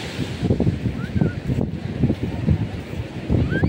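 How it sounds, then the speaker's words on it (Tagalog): Strong gusts of wind buffet the microphone in uneven, rumbling bursts that continue throughout. "Yung hangin."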